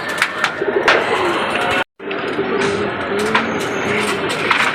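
Pigeons, including a female bird, coo in repeated low, throaty, rolling calls close by, with a brief dropout partway through.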